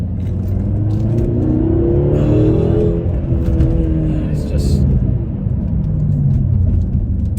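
A BMW F13 M6 with a V8 engine rumbles and revs steadily up close, its deep engine note continuous throughout with people talking over it.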